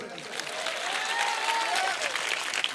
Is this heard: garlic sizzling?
no